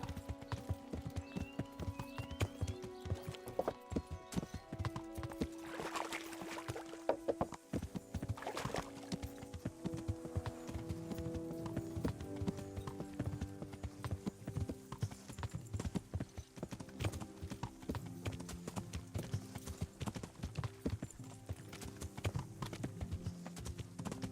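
Horse hooves clip-clop continuously in the Kingdom Come: Deliverance video game, a steady, even walking rhythm with a brief whinny, set against a game music bed and no talking.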